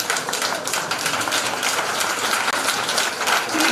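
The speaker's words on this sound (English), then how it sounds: "stand up and give them a round of applause" Parents and visitors rise for a standing ovation for school leavers at a primary school leaving ceremony, a dense, steady wash of many hands clapping that fills the whole stretch at a fairly loud level.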